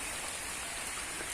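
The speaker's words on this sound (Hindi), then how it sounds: "आपको बारिश की आवाजें भी सुनाई दे रही होंगी।" Heavy rain pours down steadily outdoors, a dense, even hiss of drops hitting the ground and leaves that fills the whole moment close by, with no voices.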